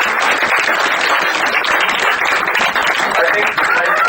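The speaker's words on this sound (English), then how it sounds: "I would like all of you to applaud for yourselves" An audience at a startup pitching event claps for itself, a dense, sustained wash of many hands filling the room for the whole stretch.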